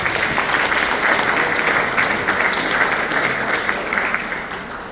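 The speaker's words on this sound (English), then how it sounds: "Can we give her another round of applause?" An audience at a Cayman older persons forum with government officials applauds steadily for about five seconds, a dense wash of clapping that fades slightly at the end.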